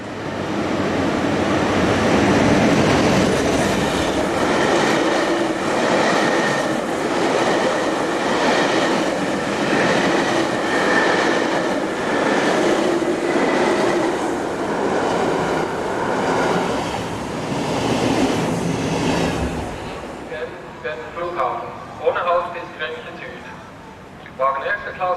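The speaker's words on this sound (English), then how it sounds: "Still in 1970s orange and white Swiss Express livery, RE44 number 11103 passes with the southbound interregional working." A Swiss RE44 electric locomotive in orange and white Swiss Express livery passes hauling a southbound interregional train, a loud sustained roar with rhythmic wheel clatter that fades into a station announcement.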